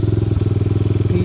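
A Honda CT70 motorcycle with a PZ26 carburetor, emissions delete, aftermarket pipe and stock gearing on a top speed run: a loud close engine drone with a fast steady pulsing throb that barely changes pitch over a second.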